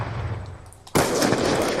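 A single sharp gunshot from a first-person shooter game, a headshot, bursts in loud and close after a quiet stretch, with the broadband blast and its ringing tail filling the rest of the moment.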